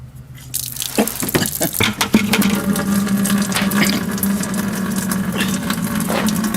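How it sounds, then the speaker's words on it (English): Coolant pours from the radiator petcock of a 2006 Dodge RAM 3500 with a 5.9 Cummins, first as clanks and drips, then a steady splashing stream into a drain pan, close and continuous. "So I'm going to get to my drain pan and we're going to drain the coolant out first."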